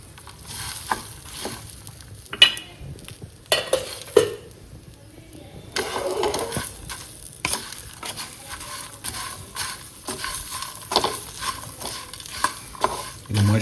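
Boiled potato and peas tossed and stirred in a pan for jhal muri over a slow to medium flame, giving irregular scraping and clattering knocks with a soft sizzle underneath, some louder clanks standing out near and close.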